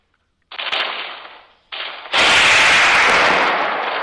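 Bursts of gunfire in the ragdoll sandbox game Melon Playground, two short volleys followed by a loud, sustained burst that holds steady to the end with no talk.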